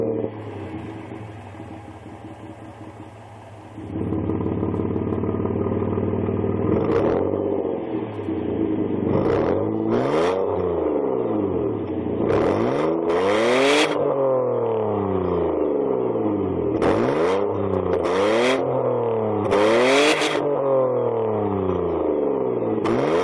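A supercharged Mazda Millenia engine idles steadily, then revs repeatedly in sharp, rising and falling bursts, loud and close with no talk.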